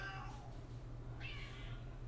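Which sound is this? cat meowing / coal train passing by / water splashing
cat meowing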